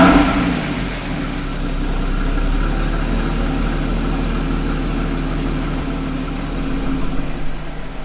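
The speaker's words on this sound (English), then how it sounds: "give you a cold start on a Porsche Cayman" A Porsche 981 Cayman S engine, already warm from a drive, fires up loudly and settles into a steady, throbbing idle that carries on alone for several seconds.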